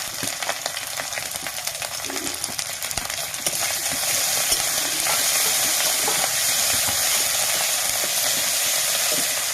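Garlic, ginger and chili paste sizzle steadily in a pan for a fish curry, with spatula scrapes and stirring clatter over a constant frying hiss that thickens partway through.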